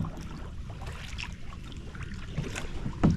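Kayak moving through calm mangrove water near Varkala, with low lapping and a steady wash of water and light wind, and a somewhat louder splash of a paddle stroke near the end.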